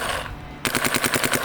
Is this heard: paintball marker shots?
yes